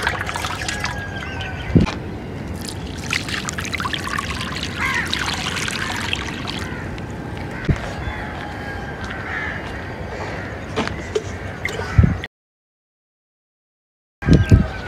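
Water poured with a mug from a drum on an open rooftop trickles and splashes in short, uneven pours, with crows cawing around it and a brief silent gap near the end.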